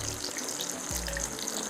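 Kaari kebabs frying in a hot pan give a steady, close sizzling hiss with a low rumble that shifts partway through, no voices present.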